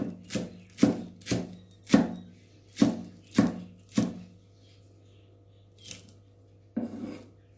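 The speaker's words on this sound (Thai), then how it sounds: "ซอยพวกอ่า ผักแพรวสะระแหน่ ผักชี เข้าไปอีกทีหนึ่ง" Vietnamese coriander, mint and coriander leaves being sliced with a knife on a board, about nine crisp chopping strokes in an even rhythm, then a pause and two more cuts, close and clear.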